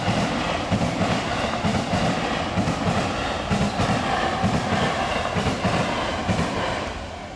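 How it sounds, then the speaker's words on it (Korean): Randen light rail tram in Kyoto, a short one- or two-car purple train, rumbling past at a steady loud level with rhythmic wheel clacks, fading slightly at the end. "근방에 란덴이라는 전철이 있었는데요"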